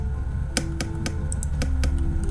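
Computer keyboard keys clicking in a few scattered taps during a PC fishing game, close up over a steady background hum of game sound.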